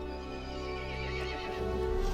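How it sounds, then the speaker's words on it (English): A horse in Resident Evil Village neighs in a long, sustained whinny with faint hoof clops beneath, loud and close over a steady game backdrop. "The horse grew angry and summoned the other monsters."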